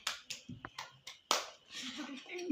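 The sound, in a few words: hand clapping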